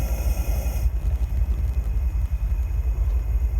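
An outdoor high-pressure wok burner flame idling, a low, steady roaring rumble with a soft hiss on top, close and continuous with no talk.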